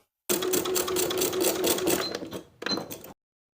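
A sewing machine runs steadily while stitching a shirt jacket placket, a loud continuous whir with rapid needle rhythm, briefly stopping then starting again for a short final burst, no talking.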